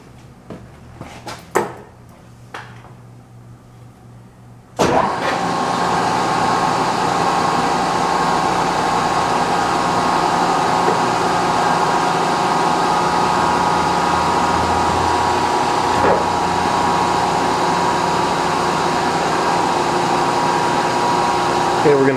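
A milling machine with a 6-inch cutter, workpieces clamped in a vise and lubricated with WD-40, starts with a sudden loud onset after a few quiet clicks, then a steady, close, broadband mechanical hum runs unbroken to the end.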